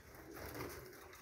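Pigeons cooing in an aviary, a soft steady low murmur of calls close by, continuous through the short moment with a faint broadband hiss behind.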